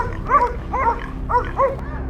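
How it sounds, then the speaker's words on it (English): Several hunting dogs barking in quick bursts on a wild boar's trail in winter, two pairs of yelps close together, fairly near and loud over a low background hum. "They quickly sniffed, barking loudly to signal that they had discovered the target."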